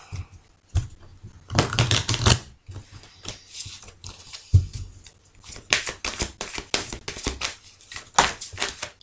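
Cards are shuffled up close in a few quick riffling bursts with short pauses between them, and there is no talking.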